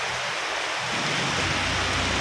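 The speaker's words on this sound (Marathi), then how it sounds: "आमच्या ब्रुके परिसरात तर पाऊस जोरदार चालू आहे" Heavy evening rain pours down onto a road in a dense, steady roar, swelling louder partway through, with a low rumble underneath.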